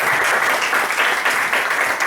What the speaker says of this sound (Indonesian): beri aplaus sekali lagi untuk Bapak Michael Alvin